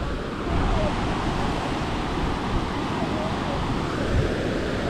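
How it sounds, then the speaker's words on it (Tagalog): Strong floodwater waves surging at Manila Bay, a steady loud wash of churning water with wind noise across the microphone, continuous throughout without speech. "napakalakas pala ng baha"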